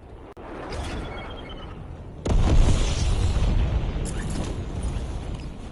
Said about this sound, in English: Napalm strike requested on my mark.